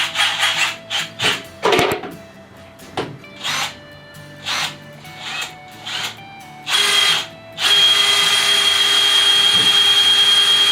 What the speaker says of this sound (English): I'm going to go ahead now and drill out some of these spot welds